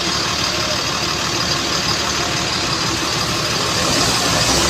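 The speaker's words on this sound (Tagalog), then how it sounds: "Ganda ng tunog na makina." A Volvo bus diesel engine idles steadily with a constant low rumble and broadband hiss, loud and close, without pauses.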